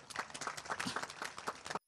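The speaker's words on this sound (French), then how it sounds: "Je vous demande d'applaudir, monsieur le directeur général." A crowd at a ceremony honouring a broadcaster's director general applauds for a little under two seconds, busy clapping that stops abruptly.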